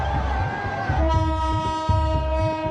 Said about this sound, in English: This is a train in India.